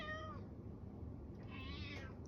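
A cat with something stuck on its nose meows twice, a drawn-out complaining cry at the start and another near the end, fairly close and clear.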